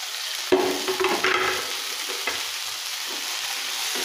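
Sliced onions go into hot oil in a pan for a Kerala-style clam fry, sizzling steadily up close with a sharp burst as they land and some stirring scrapes through the rest, no talking.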